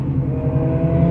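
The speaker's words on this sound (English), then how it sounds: "cool bike. It's a Gixxer." A Suzuki Gixxer sport motorcycle passes by with a loud, steady engine drone that rises slightly toward the end. It is brief and close, with no talk over it.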